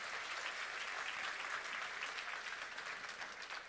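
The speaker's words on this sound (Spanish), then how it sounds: "dale un aplauso al Señor" A church congregation breaks into sustained applause at a Spanish-language service, a dense, even wash of clapping holding steady throughout and tapering slightly near the end, with no voices on top.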